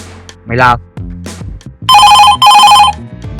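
A voice speaks briefly, then a telephone bell rings loudly in two bursts, each a rapid trilling ring.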